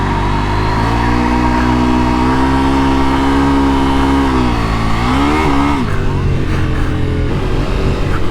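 2023 KTM 890 Adventure motorcycle engine running hard under heavy acceleration, a loud, steady high-revving drone that rises, then drops and wavers near the end, with wind rush and no clear talk.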